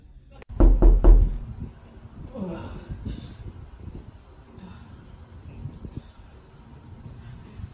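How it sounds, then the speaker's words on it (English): Several loud, close knocks on a door come in a quick burst near the start, followed by soft rustling and quiet background noise. "There's a knocking indeed."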